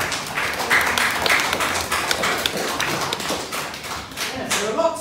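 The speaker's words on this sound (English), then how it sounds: "another nice round of applause there" Schoolchildren clapping in a Victorian-style classroom lesson at Blists Hill, a dense, fairly close patter of claps running throughout with some taps and thumps mixed in.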